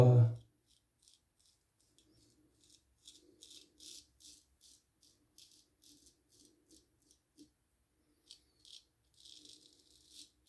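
Soft, rapid crackling scrapes come in short bursts as a RazoRock Nomad straight razor shaves against the grain through stubble, close and fairly quiet, with brief pauses between strokes.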